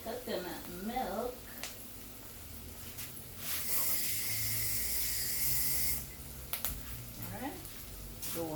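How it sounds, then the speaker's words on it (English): Coconut milk poured into hot burnt seasoning bursts into a loud sustained sizzling hiss for a few seconds, with a person talking before and after it. "We want our seasoning to get burned, so we put in our coconut milk"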